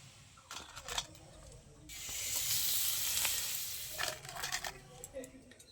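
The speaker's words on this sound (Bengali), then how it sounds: "এরকম টেনে টেনে ভাজলে কিন্তু পাঁপড়ের সাইজটা অনেকটা বড় হয়ে যায়।" Papad deep-frying in hot oil gives a steady, fairly loud sizzling hiss that swells in the middle, with light scraping clicks from pulling and stretching the papad at the start and near the end.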